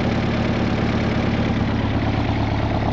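A 1984 Jeep DJ-5M idles through its side-exit exhaust pipe, a steady low rumbling drone with a faint knocking pulse, close and loud, no voices.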